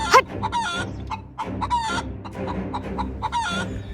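Domestic hens clucking close by in loud, rapid bursts, with overlapping calls and a rooster-like crowing phrase, and no voices.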